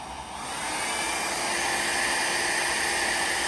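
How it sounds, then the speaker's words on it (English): A hair dryer whirs steadily at a low, even setting, drying an alcohol ink painting; a continuous airy hum close by with no other sounds. "I'm lowering the speed on my dryer again"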